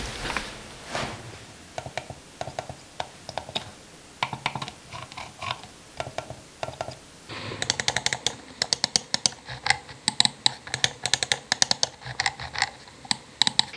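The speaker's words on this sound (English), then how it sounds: "Just have a listen to the difference in the click sound between these two mice." A Logitech MK295 silent wireless mouse clicks softly and is compared with a louder, sharper-clicking mouse, with a series of close, evenly spaced clicks heard alone.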